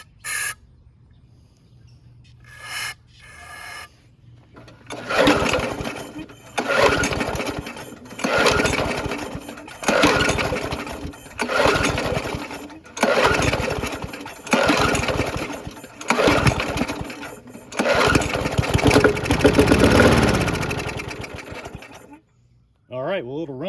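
A Yard Machines by MTD high-wheeler 4HP push mower, revived after being abandoned, cranks with pulls, then its small engine catches and runs in loud, surging bursts that rise and fall, cutting out briefly near the end.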